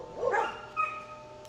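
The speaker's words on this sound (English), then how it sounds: "Dogs barking, of course." Dogs bark in the background at an outdoor smoker cooking a pork butt: a couple of short yelping barks, then one more, fairly faint, with no talk.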